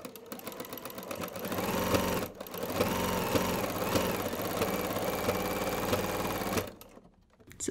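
A sewing machine fitted with a ruffler foot stitches ruffles, pleating every twelfth stitch, a steady fast mechanical whir and rattle running continuously before stopping near the end.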